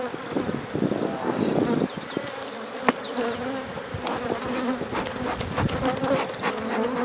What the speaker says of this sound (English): there's lots of bees here.